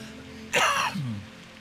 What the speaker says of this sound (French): Ça m'inquiète que tu tousses comme ça